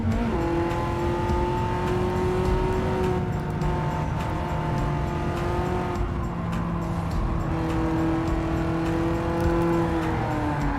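A BMW race car in the racing game Gran Turismo 7 holds a loud, steady engine whine with sustained revving and slight pitch shifts, joined by other cars and faint tire noise throughout.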